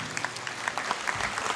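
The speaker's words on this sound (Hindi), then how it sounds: "एक बार जोरदार खड़े रहकर तालियां बजाइए।" A crowd claps in a standing ovation at an anniversary celebration, a brief and fairly soft spatter of many hands clapping heard from a little distance.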